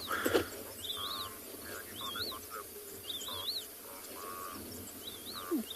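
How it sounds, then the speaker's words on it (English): Bright whistled calls of a yellow-throated longclaw repeat every second or so, a few at a time, fairly distant over a steady outdoor hum at sunset on Tswalu reserve. "yellow-throated longclaw. Can hear one calling"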